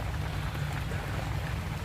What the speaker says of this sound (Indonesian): Hujan terus.